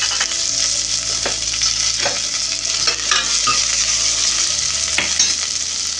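Curry leaves and coriander crackle and sizzle in hot oil for Bhadrachalam charu, a loud, steady frying hiss with scattered pops and stirring, no voices.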